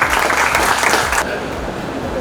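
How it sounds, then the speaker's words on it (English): Applause rises at a business school induction ceremony as a speaker is welcomed, a dense burst of clapping that cuts off abruptly halfway through, leaving room murmur and a low voice. "Please welcome him with a round of applause."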